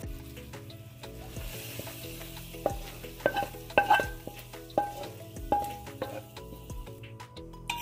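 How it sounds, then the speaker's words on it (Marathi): Khoa and sugar being sautéed in a pan over medium heat for a fried modak filling, a soft continuous sizzle broken by repeated stirring scrapes and light metallic clinks, no talking. "आपण साखर घातल्यानंतर 5 मिनटं खवा परतून घेतलेला आहे."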